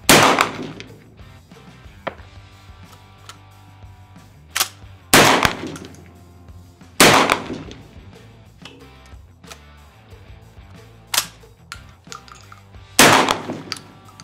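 A 12 gauge SCAR shotgun fires Spear Lawman rifled slugs outdoors, about five loud, sharp blasts spaced a couple of seconds apart, each with a short decaying tail over quiet background.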